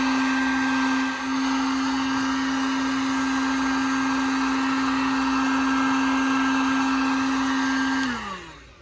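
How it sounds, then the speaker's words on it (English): A heat gun blows a loud, steady whirring hum while shrinking heat shrink tubing over a wiring connection in a 3rd Gen Toyota 4Runner USB panel job, then winds down as it switches off near the end. "we're gonna take our heat gun, turn it on,"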